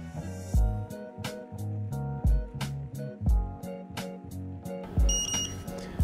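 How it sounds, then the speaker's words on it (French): A Xiaomi M365 electric scooter gives a series of short electronic beeps at a steady pace, each with a soft thump, ending in a pair of higher tones. "votre trottinette va biper 2 fois"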